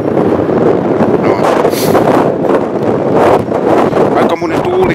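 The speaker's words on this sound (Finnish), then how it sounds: "Aika monen tuuli käy täällä" Strong gusting wind roars and buffets the microphone throughout at Pyynikki observation tower, with voices speaking in Finnish under the rumble.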